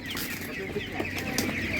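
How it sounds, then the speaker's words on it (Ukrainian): Small chicks at an outdoor animal market cluck and cheep continuously, close and dense, with faint crowd noise underneath. "Ось такі курчата."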